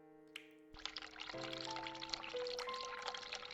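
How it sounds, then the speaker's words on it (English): Hot water running from a tap in The Cat Lady horror video game starts with a sudden gush after a short lead-in, then pours steadily and close, layered over sustained eerie musical tones. "run hot water."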